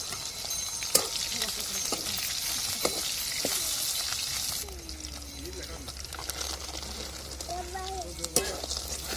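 Coconut and green chillies sautéing in a pan, a steady broadband sizzle with occasional stirring clicks and scrapes, the hiss easing midway while a low hum and brief voice-like tones sit faintly underneath.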